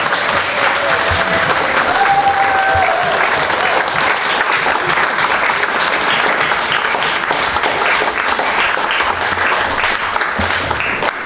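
Sustained applause from a large audience at a packed town council meeting on a neighbourhood plan vote, loud and dense clapping filling the whole stretch without a break.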